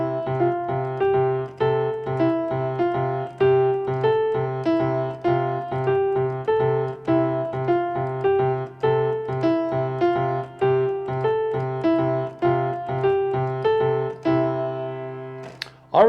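Keyboard plays a repeating four-note melodic cycle in the right hand over a steady 3/4 polyrhythm, the notes shifting against the underlying pulse in a continuous, even pattern, played alone at moderate loudness.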